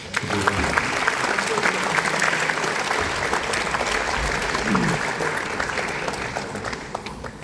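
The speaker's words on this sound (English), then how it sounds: "I think your Director of School deserves a round of applause" Audience at a memorial lecture applauds its school director, a full, steady wash of clapping with faint murmuring voices beneath, holding at an even level before tapering slightly at the end.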